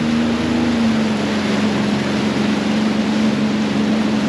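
Sea-Doo personal watercraft cruising slowly on the Erie Canal at about five miles per hour: a steady, close engine hum over constant water and wind noise, with no talking.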